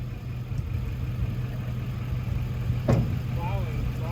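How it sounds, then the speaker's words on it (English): A Chevy engine, one of two stuck Chevys, idles with a steady low rumble that runs continuously at close range; a brief sharp knock sounds near the end, and a voice is heard over the engine. "Just let it idle for a second."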